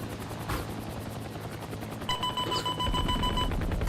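A Chinook twin-rotor helicopter in the combat game Heliborne drones with a continuous rotor thrum, joined by bursts of rapid gunfire and a steady electronic tone partway through.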